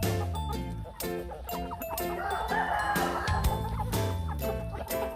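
Chickens and a rooster clucking and calling continuously at close range on a farm at feeding time, a dense, busy flock chorus with occasional louder squawks.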